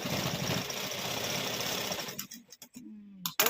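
A sewing machine stitches jeans in a fast, steady, loud mechanical whir, close by, then slows and stops into a few separate knocks and clicks.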